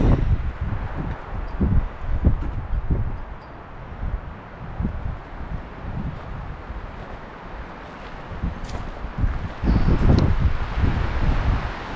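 Gusty wind at a campsite on Forest Road 300 in Sitgreaves National Forest rumbles and pummels the microphone, rising and easing in waves, with a heavy blast near the end.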